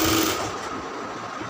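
Fast, continuous whirring drone of a sewing machine stitching a round kameez, close and loud throughout with no pauses.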